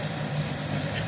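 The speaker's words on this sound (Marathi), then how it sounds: "व्यवस्थितपणे आपण ह्याला फ्राय करून घेऊया।" Sambar masala frying in a pan gives a brief, steady, hissing sizzle at moderate level, close and continuous, with no talking.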